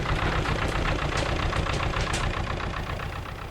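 An 1861 steam-powered land drainage engine running in its engine house, a steady rhythmic chuffing and mechanical beat that stays close and loud throughout, with no voices.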